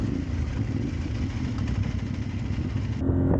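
A CFMoto 450MT adventure motorcycle's parallel-twin engine runs steadily nearby, a dense low idling rumble with light mechanical clatter that rises slightly at the end.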